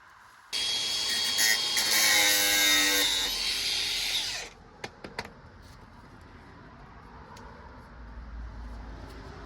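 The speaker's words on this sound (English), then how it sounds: "And it will be the electrical screwdriver." An electric screwdriver whirs loudly and close for about four seconds, then stops, followed by a few sharp clicks and a quieter background hum.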